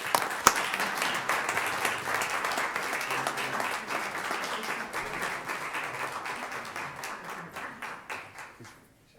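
Applause for long-serving county staff at a commissioners court meeting, a room of people clapping steadily at moderate volume that gradually thins out and stops.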